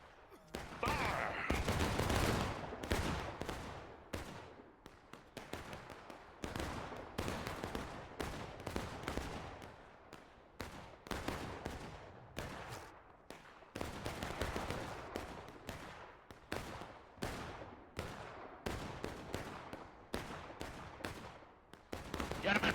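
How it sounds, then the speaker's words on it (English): Infantry musket volleys in a Civil War battle video game, ragged rolling bursts of many shots crackling one after another for the whole stretch, loud and dense with brief gaps, no talk. "That was a weak volley, lads."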